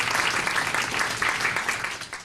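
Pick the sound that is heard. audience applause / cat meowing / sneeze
audience applause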